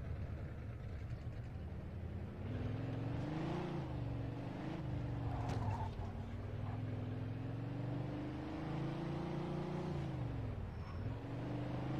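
A car engine drones while driving in the video game Mafia II, a steady low hum that rises and swells in pitch as it accelerates and shifts, continuous and mid-distance with no talk.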